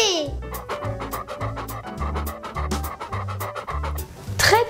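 A dog pants close by in quick, rhythmic breaths that run steadily throughout, with a few other sounds at the start and end.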